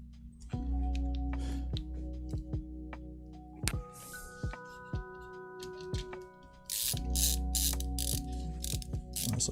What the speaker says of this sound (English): hooray for the ratcheting screwdriver from LTT store.